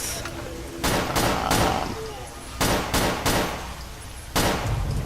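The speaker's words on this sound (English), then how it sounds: "Sounds like the gunfire is getting more and more sporadic." Several sharp gunshot bursts in STALKER: Call of Pripyat ring out at irregular intervals, loud and close, with low rumbling ambience between the shots.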